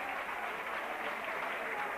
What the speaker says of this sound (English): he should get an absolutely rousing ovation here from the crowd